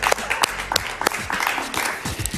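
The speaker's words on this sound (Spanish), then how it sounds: "Un aplauso para ella." Studio audience applause for the female guest of a television talk show: lively, continuous clapping with distinct sharp claps standing out near the front, without talk.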